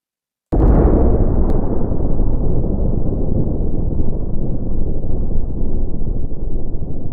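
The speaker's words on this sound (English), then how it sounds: "that's exactly what needed to happen in order to trigger an explosion" A sudden video game explosion in Cosmic Caverns bursts in sharply and then rumbles on as a long, loud, slowly fading roar.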